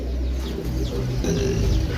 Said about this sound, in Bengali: ডিম বাচ্চা করা রানিং এই কবুতরটা